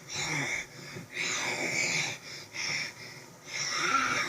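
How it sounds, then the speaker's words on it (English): Heavy, raspy breathing in slow repeated rhythm, each wheezy inhale and exhale separated by short pauses, close and fairly quiet. "you hear some, like, heavy breathing or something?"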